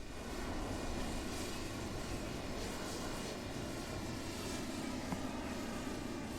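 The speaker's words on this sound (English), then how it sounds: "Eco Alpha Tango taking off runway 30" Small propeller airplane taking off from runway 30, a steady, full engine drone with constant broadband roar, no talking.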